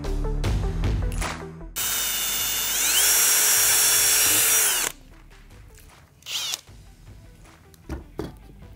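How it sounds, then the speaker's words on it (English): A power drill boring holes into a wooden dowel rod, starting with short clicks and handling noise, then a loud sustained whine for a few seconds before it stops and a few knocks follow. "drill about 8 to 10 holes all the way to the top of this dowel rod"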